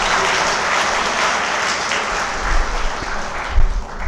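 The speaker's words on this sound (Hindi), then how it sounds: "आप लोग थोड़ा सा जोर ताली बजा सकते हैं।" Seminar audience applauding steadily and loudly for several seconds, a dense sustained clatter of many hands in a hall, with no talking over it.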